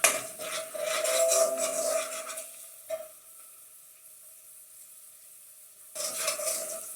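Ingredients for a chicken madras sizzle loudly in a hot pan with stirring clatter for the first few seconds, then the frying settles to a quiet hiss before a fresh burst of sizzling near the end.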